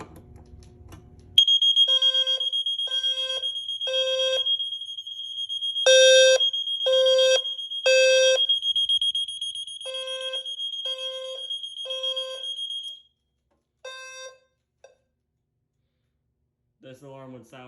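Smoke detector alarms on a Notifier SFP-1024 fire alarm system in a dwelling unit test: loud, piercing electronic beeps in groups of three, repeating in a regular temporal pattern, then cutting out one after the other, with brief talk at the end.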